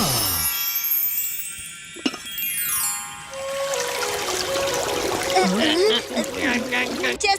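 Water pours and trickles into a drinking vessel in a Telugu animated film, a steady splashing stream rising in pitch as it fills, heard over background music.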